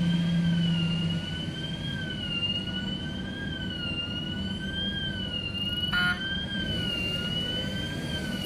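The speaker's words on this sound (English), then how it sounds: "The horn even sounds like a cop car." A vehicle horn that sounds like a police siren wails in a steady, wavering two-tone pattern for the whole stretch, loud and close, over a constant background hum with no talking.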